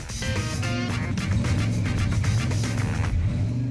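A custom Hemi-engined car nicknamed Full Noise runs loud and close, its deep, steady engine rumble holding throughout with brief throttle blips near the start and no talking.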